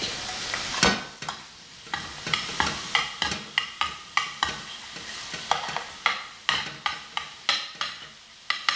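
Shrimp frying in a pan for spicy shrimp with udon noodles, a constant sizzle broken by repeated sharp scrapes and taps of a utensil turning the pieces, close and rhythmic.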